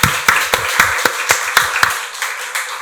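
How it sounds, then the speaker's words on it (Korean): A church congregation clapping together during a Sunday worship service, about eight sharp unison claps in a steady rhythm, loud and close, then fading into quiet. "박수로 하나님께 영광 돌리겠습니다"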